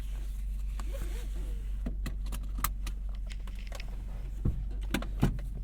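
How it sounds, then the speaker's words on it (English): Seatbelt buckled inside a 2025 Subaru WRX TS, a series of small clicks and latch rattles over a steady low cabin hum, with a final clunk near the end. "Buckle on up."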